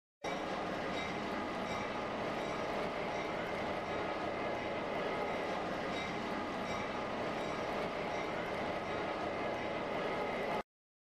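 Steady rumble of a pair of NW2 diesel switcher locomotives, 2,000 horsepower, pulling a Chicago Great Western freight train past, dense and continuous with faint rail clatter, no voices.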